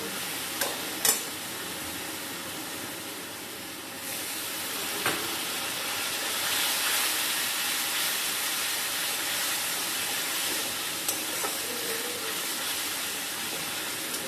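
Turmeric and spices frying in oil for a pumpkin dish, a steady close sizzle with scraping stirs and a few sharp utensil clicks, running continuously with no talk.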